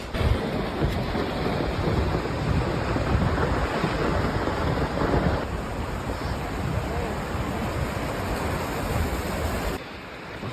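Steady, dense roar of rushing water from a nearby waterfall in Yosemite, loud and continuous, with some wind buffeting the microphone.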